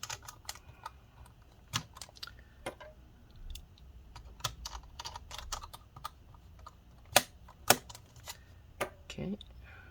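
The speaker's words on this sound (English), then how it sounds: "let's go ahead and get these flat screws back in." Small screws being driven back into a Lenovo G470 laptop case, heard as scattered light clicks and ticks of a screwdriver and plastic handling, close and fairly quiet, with occasional louder taps and no talk.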